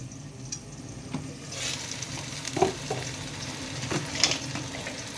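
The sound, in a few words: dhapra flatbread frying in ghee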